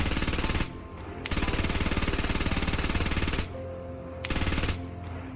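In the game Squad, a machine gun fires from its bipod in long automatic bursts, with rapid rhythmic shots in three bursts separated by brief pauses, loud and close.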